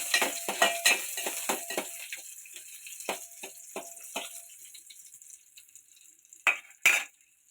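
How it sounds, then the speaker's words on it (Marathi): Garlic and curry leaves frying in hot oil in a pan, a soft sizzle beneath repeated sharp stirring and spoon scrapes, louder bursts at the start and two strong clanks near the end. "आपण कढीपत्ता पण टाकून घेऊया आणि लसूण पण टाकून घेऊया आता लसूण मी टाकले त्याला थोडासा शिजून देऊया"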